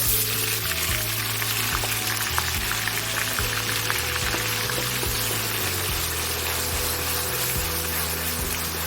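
Ground paste of four onions hits hot oil in a pan for a village-style pepper chicken gravy, setting off a loud, continuous sizzle that holds steady throughout, with a rhythmic low backing underneath.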